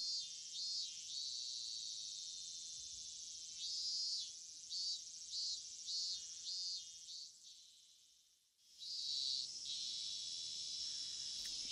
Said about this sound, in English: the cicadas are gonna get really annoying for me, honestly